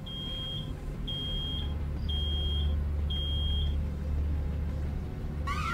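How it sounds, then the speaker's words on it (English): An alarm in the video game Road 96 gives four evenly spaced electronic beeps, each about half a second long, clear over a low steady rumble, with no one talking. "It's an alarm."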